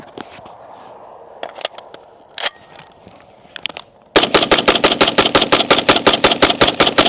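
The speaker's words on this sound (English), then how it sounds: "Let me do a quick mag dump for you guys." An FN SCAR 17S battle rifle fires a rapid, evenly spaced string of loud, sharp shots after a few seconds of quieter handling clicks and knocks.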